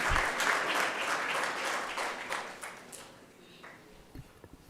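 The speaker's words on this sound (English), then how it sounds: "let's give her a round of applause" An audience at a lecture claps loudly in a thick burst that thins into scattered claps and fades out over a few seconds.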